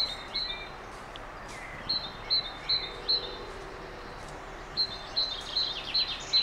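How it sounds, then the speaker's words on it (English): Quiet outdoor ambience with small birds chirping in short bursts of repeated high notes, some close and some farther off. "Have a listen to the birds for a few seconds."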